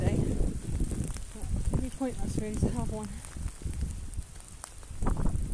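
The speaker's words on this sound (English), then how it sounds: "It's so windy today." Gusty wind buffets a cemetery on a rainy day, rumbling and rushing close against the microphone in uneven bursts while a person talks over it.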